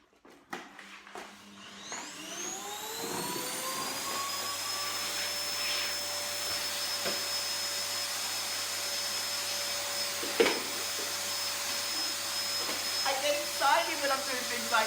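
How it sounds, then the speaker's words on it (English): A vacuum cleaner hoovers an apartment floor, its motor whining up to a steady high drone that runs continuously, with occasional bumps and scraping as it moves. "now I need to get on and hoover this floor so that I can wash it"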